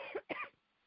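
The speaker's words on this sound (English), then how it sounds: "I have a little bit of a cough this evening" A speaker at a talk on Trumpism and the global economy coughs twice in quick succession, short and close, with silence after.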